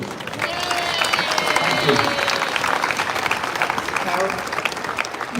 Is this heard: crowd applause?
yes